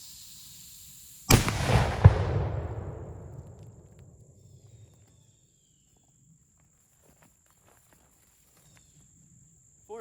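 A single loud gunshot from a large-bore air rifle firing a big pointy pellet on 400 grains of powder at ballistics gel cracks sharply, then rumbles and decays over a few seconds into near silence.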